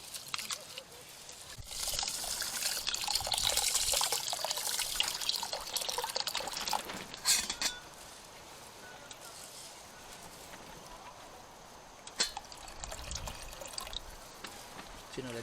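Cold water at an overnight riverside camp in Sta. Maria, Laguna splashes and trickles close by, a continuous faint wash with brief splashy bursts, while people talk quietly.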